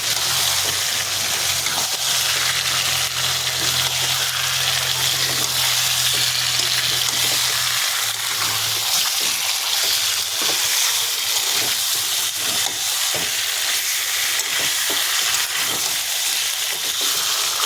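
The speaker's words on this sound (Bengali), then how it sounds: "এই যে ভেটকি মাছের কাটা আমি দিয়ে দেবো। দিয়ে ভালো করে নাড়াচাড়া করে নেব।" Bhetki fish bones fry in a pan with a steady, close hiss and occasional stirring clatter, while a low hum sounds briefly near the start.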